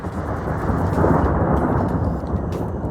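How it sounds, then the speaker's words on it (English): Deep rolling thunder rumbles steadily over a campsite as a storm approaches, a loud sustained roar without distinct cracks, with no voices present. "I arrived at camp to the sound of thunder"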